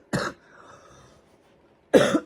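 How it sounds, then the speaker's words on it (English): A person coughs twice, each a short harsh burst, close and loud, separated by a quiet pause with faint low murmuring. "I have been having so much coughing, crazy coughing too"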